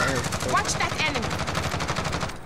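Rapid gunfire bursts from a Call of Duty: Modern Warfare match fill the space, dense and steady throughout with a spoken voice faintly layered in.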